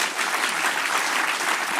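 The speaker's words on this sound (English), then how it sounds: "Please give them a round of applause." Conference audience applauding steadily and densely throughout, a loud sustained wash of many hands clapping with no voices over it.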